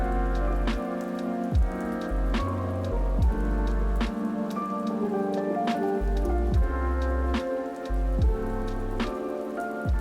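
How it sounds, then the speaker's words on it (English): Autumn rain falls steadily over a bonsai garden, a dense, even patter of drops on surfaces that holds at a constant moderate level throughout. "we'll enjoy this final autumn rain and the quiet beauty it creates in the garden"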